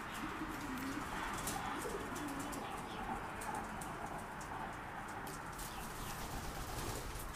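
Breeding pigeons kept for stock coo softly and repeatedly in their loft, a continuous murmur of overlapping calls with faint rustling and no speech.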